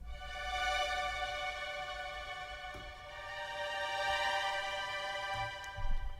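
Sustained orchestral string tremolos from the Mural trems sample library, a shimmering bowed wash with steady harmonic layers that swells gently and holds at moderate level, alone with no voices.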